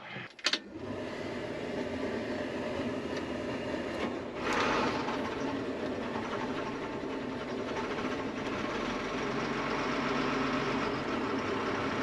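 A farm engine is started and left idling to warm up, a couple of sharp clicks giving way to a steady, even running drone that holds near and constant with a brief surge midway.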